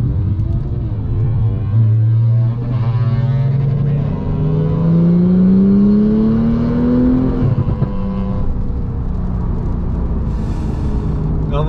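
A Porsche Carrera 4 GTS with a manual gearbox, British Legends Edition and Stage 2 tune, accelerates hard while driving. The loud engine note climbs steadily through a gear, drops at a shift, then carries on under a rumbling exhaust.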